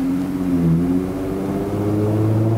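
A remapped Lexus IS250 (XE20) engine holds a steady, close, droning mid-range rev for a few seconds, with no talk over it.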